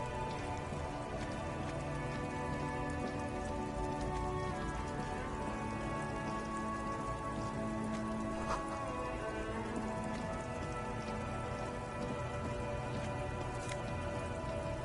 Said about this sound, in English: Stuck in the rain